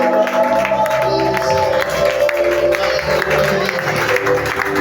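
A church congregation at a Sunday service shouts and cries out in joy, a loud continuous crowd roar with clapping mixed over music throughout.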